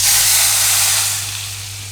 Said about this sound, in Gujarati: તો તેલ આપણે ગરમ થઈ ગયું છે, એમાં આપણે નાખશું કાશ્મીરી મરચું.